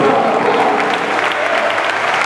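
A church congregation applauds during an evangelistic sermon on the resurrection of Jesus, a loud, continuous wash of many hands clapping at once.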